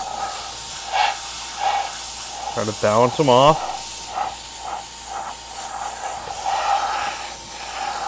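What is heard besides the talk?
spray gun spraying paint on mini hood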